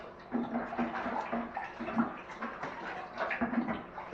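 Water splashes and gurgles as an aquarium return fitting is filled and poured out during cleaning, a steady close sloshing with a few louder pours.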